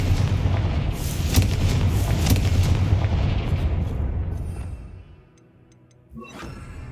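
The Confringo blasting spell in Hogwarts Legacy sets off a loud, rumbling explosion that roars for a few seconds, then fades to near silence before a smaller burst of game sound returns.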